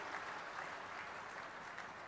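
An outdoor political rally crowd in Haryana gives a sustained round of applause, heard as faint, even, distant clapping for about two seconds with no speech.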